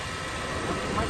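Toyota Innova 2012 engine idling smoothly, a steady broadband hum holding even and loud throughout with a faint voice underneath.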